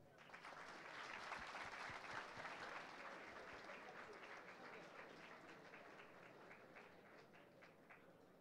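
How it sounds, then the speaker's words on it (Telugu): An audience at an engineering college event applauds steadily for several seconds, a dense, even wash of many hands clapping that fades slightly toward the end, with no speech over it. "చప్పట్లు కొట్టాలి."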